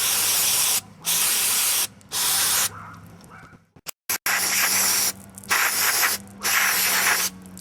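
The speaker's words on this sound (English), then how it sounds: "now I'm just going to shoot some carb spray into the jets, into the choke and everything" Several loud, hissing bursts of aerosol carburetor cleaner sprayed into the jets and choke of an Ariens tiller, each lasting about a second, separated by short pauses, with a brief stretch of handling noise in the middle.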